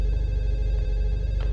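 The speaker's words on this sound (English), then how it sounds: "Why does the phone keep ringing?" Telephone ringing inside the horror video game Fatal Midnight, a steady electronic ring sustained throughout over a low droning background, fairly loud and close with no talk.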